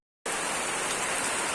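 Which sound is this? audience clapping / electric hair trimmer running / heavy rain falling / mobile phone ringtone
heavy rain falling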